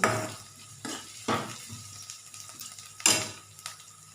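Mustard seeds, dals and chopped onion fry in oil while a spoon makes a few sharp scraping stirs over a soft, steady sizzle.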